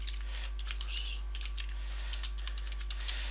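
Typing on a computer keyboard while planning an essay in mind-mapping software: a rapid run of close, light key clicks over a low steady hum.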